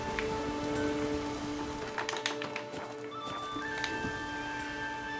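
Steady rain falling in The Witcher 3 game world, a continuous close patter of drops with a few brief clip-clop-like knocks and faint tonal game sounds underneath, no talk.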